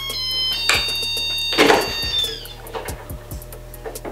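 A heat press timer plays a short electronic tune when its 7-second cycle ends, a string of bright tinny beeping notes, close and fairly loud, over a low background hum.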